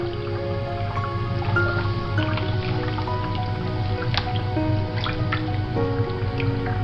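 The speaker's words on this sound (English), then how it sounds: "you want to stir the water with the soap like so." Water with soap being stirred by hand in a tub, giving soft sloshing, dripping and squishy liquid sounds in a steady, close churn over a low background hum.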